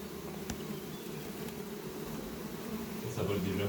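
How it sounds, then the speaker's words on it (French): A honey bee swarm being collected hums steadily and densely outdoors, a continuous close buzz of many insects, with a few individual bees passing louder near the end. "Ah, les abeilles, ils n'ont pas tellement de raison de voler tout autour, donc elles se regroupent très vite."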